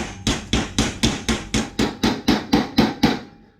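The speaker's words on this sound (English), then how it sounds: "I'm gonna get a hammer and see if I can hammer this in" Eleven sharp, evenly spaced hammer blows on a riding mower deck striking in a steady rhythm, close and loud, with the last hit fading away.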